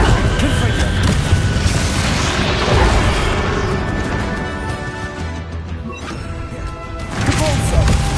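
A Confringo fire spell bursting in Hogwarts Legacy during a boss fight, a dense, loud rumbling explosion wash with crashes and booms filling the whole stretch, voices mixed in.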